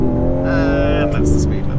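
A 2023 BMW M4 Competition xDrive accelerates hard onto a motorway in regular mode, its engine note rising steadily through a short, loud burst heard from inside the cabin.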